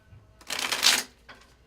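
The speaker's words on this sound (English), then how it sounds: "So what I do is I shuffle the cards basically so they feel right." A deck of tarot cards is shuffled by hand, giving one close, crisp riffling burst and then a shorter softer flutter.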